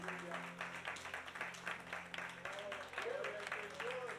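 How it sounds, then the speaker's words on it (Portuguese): Church congregation applauding together during a worship service, a steady wash of many hands clapping under a sustained low organ or keyboard tone, with faint voices rising near the end. "Dê uma salva de palmas para Jesus."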